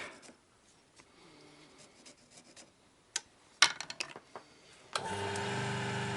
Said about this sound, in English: Sometimes it helps to get the pencil and put a good mark.